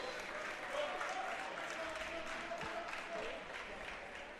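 A high school wrestling crowd at a triangular meet between St. Croix Central, Ellsworth and Prescott applauds steadily in a gym, a continuous patter of clapping with voices mixed in.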